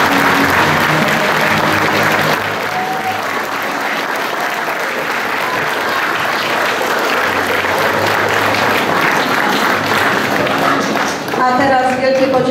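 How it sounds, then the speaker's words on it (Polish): An audience at a children's theatre premiere in a village hall claps steadily for over ten seconds, a dense, loud wash of applause with a voice speaking over it and a short burst of clearer sound near the end. "Wielkie oklaski."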